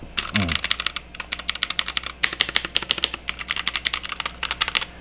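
Rapid clacky keystrokes on a Z-Friend ZA68 Pro 60% layout mechanical keyboard, steady bursts of typing close up with brief pauses, a voice speaking quietly underneath.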